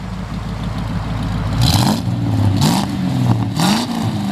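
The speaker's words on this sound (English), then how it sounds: "It's got nice dual exhaust." A 1950 Chevrolet Styleline Deluxe engine with dual exhaust idles with a rough, low rumble, then revs up three times in quick bursts, each rising and falling back.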